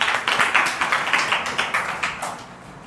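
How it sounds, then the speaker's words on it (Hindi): Children in a government school classroom clap together in a loose rhythmic pattern, a dozen or so roughly even group claps that fade out at the end. "ताली बजाओ"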